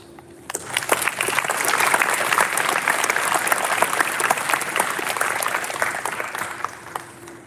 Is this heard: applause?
yes